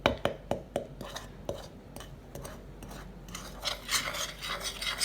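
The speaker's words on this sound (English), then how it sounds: "I'm going to break up the eggs and give this a bit of a stir" Eggs are broken up and stirred in a bowl for a peach and almond cobbler mix: a run of sharp taps and scrapes, then softer continuous rubbing and swishing.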